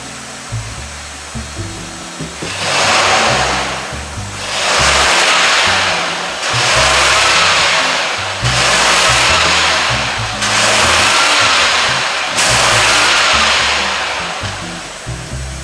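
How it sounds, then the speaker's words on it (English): A Rolls-Royce engine in poor condition being revved repeatedly: about six swelling, roaring revs, each lasting a second or two, rising over a rough, uneven idle, loud and close, with no voices. "Let me rev it up and see what happens."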